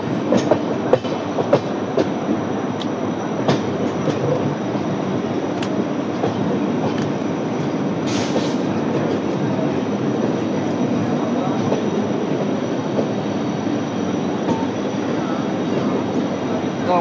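Heard from on board, train 19203 Bandra–Veraval, hauled by a WDP4B diesel locomotive between Jetalsar and Junagadh, swings into a loop line toward the platform with a continuous loud rumble and rhythmic wheel clatter.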